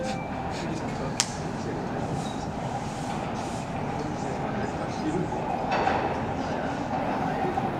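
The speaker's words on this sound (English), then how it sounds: "These subway cars here are Toronto's Rocket Fleet" A Toronto Rocket subway train rumbles steadily with a continuous low roar and faint clatter, while a person talks over the noise.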